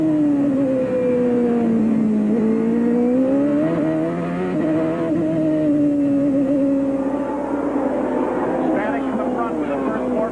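1995 IndyCar race cars roar past at the Miami track, one loud sustained engine note whose pitch slides and swells as the cars pass, with a commentator talking over it.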